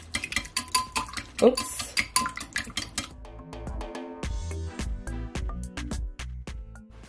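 Cake batter for a black rum fruit cake being stirred in a bowl, with a run of scraping, knocking strokes against the bowl followed by softer, steadier mixing, fairly close and alone.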